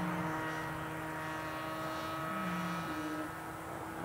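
A very fast Killer Bee RC airplane flies overhead, its small propeller engine giving a steady, droning buzz whose pitch dips and rises slightly as it passes. It sounds fairly faint and distant over an outdoor field.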